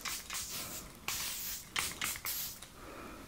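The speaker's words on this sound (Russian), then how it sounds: "Поэтому начинаем мы с вами наш макияж именно с спрея." Makeup setting spray is misted onto a face at the start of a makeup routine, several quick close-up hissing bursts in irregular rhythm.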